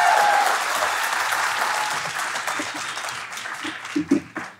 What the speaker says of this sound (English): So please, 7 extra claps for Ashley Ackerson, everybody.